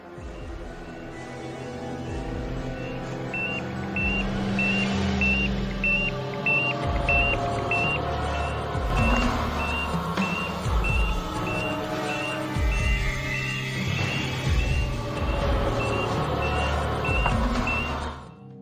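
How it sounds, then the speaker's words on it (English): An oxygen meter alarm in a mine tunnel, a regular high beep that repeats at a steady pace. It sounds under heavy rumbling background noise for most of the stretch. "an oxygen meter, which starts to sound off an alarm, warning him that the oxygen levels have dropped dangerously low"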